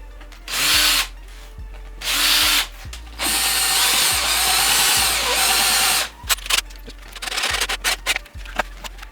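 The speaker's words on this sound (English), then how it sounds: "Just going to bore out a little bit on top so the top of the screw will sit a little better." A power drill bores screw holes in an electric skateboard deck, three loud whining bursts rising into a longer grinding run, then short clicking and rattling tool handling.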